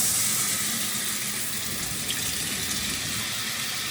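Steady, loud rush of water pouring from a rainfall shower head at strong pressure, a continuous hiss with no breaks and no talking.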